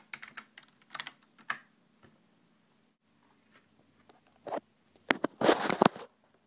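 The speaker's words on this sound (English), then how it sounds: "type in your password." A password is typed on a computer keyboard in sparse bursts of light clicking keystrokes, with short pauses between, ending in a quick, louder cluster of taps, close and otherwise quiet.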